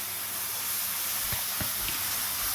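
Constant loud hissing sizzle of chicken stir-frying in a hot pan, with a few low knocks of stirring near the end.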